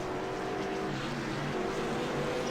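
Race cars roar under a green flag restart after the pace car pulls in, a dense, sustained engine drone from the field accelerating together, heard at a moderate distance with no voices.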